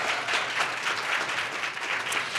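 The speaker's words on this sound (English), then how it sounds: "let's have a round of applause for that." A crowd applauds steadily, a dense wash of many hands clapping at an even level without letup.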